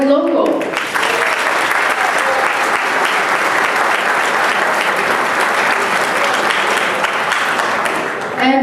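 A crowd at a 2013 Riverhead pre-primary debate applauds loudly and continuously, a thick, even roar of many hands clapping that fills the whole stretch and eases slightly at the end.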